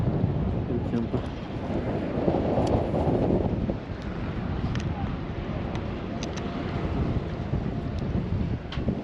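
Wind gusts outdoors on a sailboat, producing a steady, rough roar with mic buffeting that swells briefly and then settles, with faint clicks and knocks from the boat.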